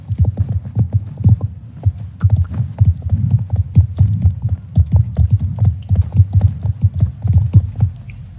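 Horse hooves in a video game while riding through a village: a steady, muffled clip-clop rhythm of low thudding steps, continuous and fairly loud, with no talking.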